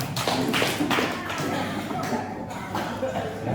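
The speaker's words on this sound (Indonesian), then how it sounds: "terima kasih Bapak Ibu tepuk tangan." An audience of parents and teachers at a school workshop claps, a rough cluster of uneven taps and thuds over a background of room murmur.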